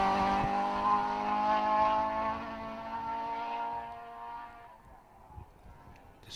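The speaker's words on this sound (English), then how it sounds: "Just hear the car accelerating off into the distance." A rally car at the 2023 West Cork Rally in Clonakilty accelerates hard on the throttle, its engine roaring loudly with clear harmonic tones before fading steadily into the distance over about five seconds.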